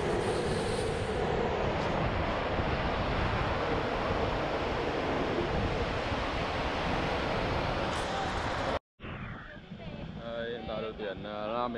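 Steady, loud roar of sea waves washing onto a beach, a continuous broadband rush that cuts off abruptly near the end, with faint other sounds following.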